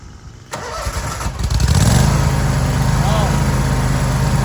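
A small lawn mower engine cranks briefly and catches, then settles into a loud, steady running drone close by.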